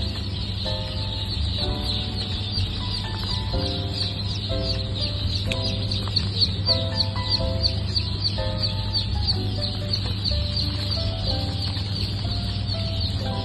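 Kuttanad Chara Chemballi duck hatchlings in a hatchery give a steady chorus of high, repeated peeping calls over a constant low machine hum, close and continuous throughout.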